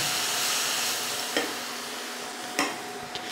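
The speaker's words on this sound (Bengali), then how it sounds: "মিল্কমেড নিয়েছি, দিয়ে দেবো অল্প জল, অল্প করে জল দিলাম, ভালো করে মিশিয়ে নেব" Condensed milk thinned with a little water is stirred in a pan, a steady soft scraping and swirling with a faint sizzle, broken by two or three brief sharp clinks of the spoon against the pan.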